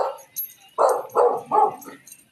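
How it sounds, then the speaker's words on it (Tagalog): A dog barks four times at a moderate distance, irregular and spaced, on a quiet outdoor path with no talking. "Aso lang yan eh."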